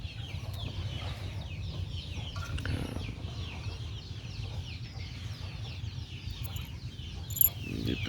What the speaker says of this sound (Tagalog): Ito po yung Rhode Island Red ko na rooster.